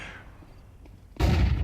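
A flashbang grenade goes off in a Counter-Strike match, a sudden loud burst of broadband noise after a quiet stretch that holds steady to the end.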